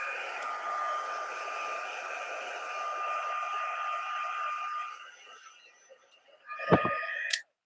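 A hair dryer whirs steadily at close range while drying a paper craft piece, the tone holding for several seconds before cutting off, followed by a brief clatter as it is set down.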